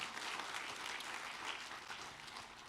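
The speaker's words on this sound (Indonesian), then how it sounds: "Yang percaya beri dong tepukan buat Tuhan kita" A church congregation applauds with dense, steady clapping that fills the room and eases slightly toward the end.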